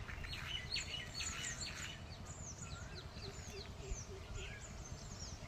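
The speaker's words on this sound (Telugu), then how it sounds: "ఇక్కడ దూరంగా ఇంకొక కోయిల కూస్తుంది." A koel calls far off across farmland, its faint rising notes mixed with other small birds chirping and tweeting over a steady outdoor background hiss.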